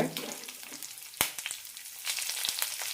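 Chana dal, split green chili, red chilies and curry leaves frying in hot oil for a ridge gourd chutney, a close, steady crackling sizzle with a few sharper pops, no voices.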